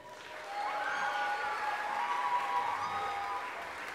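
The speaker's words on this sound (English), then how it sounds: "so a round of applause for them" Steady applause from an audience at a middle school spring music concert, honoring the advanced choir members. It swells in after a moment and holds at an even level as a continuous wash of clapping across a hall.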